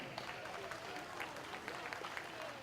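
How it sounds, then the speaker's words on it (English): Audience applause at a county fair 4-H/FFA beef and dairy cattle show, a steady patter of clapping from the crowd heard at moderate distance with some background voices mixed in. "Let's give those two a round of applause."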